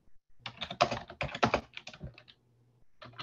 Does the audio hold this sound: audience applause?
no